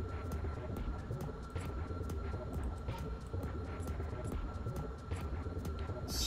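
Steady broadband engine drone of a plane flying in Kerbal Space Program, a continuous airborne hum with a sustained tone, holding fairly level throughout with faint clicks on top.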